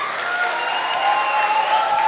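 An audience at a college talk in Tiruchengode breaks into loud, sustained applause, dense close clapping filling the room with no voices over it.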